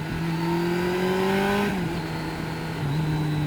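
A Kawasaki GTR1400 motorcycle powers out of a corner on the A712, its engine note climbing steadily before a brief shift dip, then droning on under constant wind rush.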